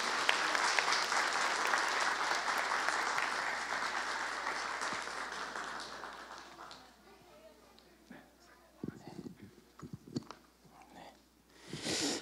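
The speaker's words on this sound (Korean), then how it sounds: "박수로 한번 격려하겠습니다" Congregation applause at a Friday church worship service, dense sustained clapping filling the first half, then fading to sparse scattered claps and faint room noise with a brief swell at the end.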